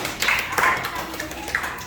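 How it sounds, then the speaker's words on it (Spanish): Applause for Karen at a uniform handover for the Kalpay group, a short burst of clapping from a small gathering, fairly close and moderately loud, fading after a couple of seconds. "vamos a darle un fuerte aplauso a Karen"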